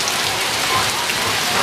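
Heavy rain pours down hard and steady in Fiji, a dense, close hiss of drops drumming on surfaces with no break, loud and alone.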